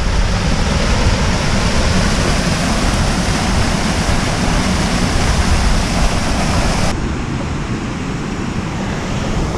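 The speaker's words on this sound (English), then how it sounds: "Another waterfall further up," Continuous loud roar of a waterfall on a Scottish mountain path near Ben Hope in the Sutherland Highlands, a dense steady rush of falling water heard close up with no voices.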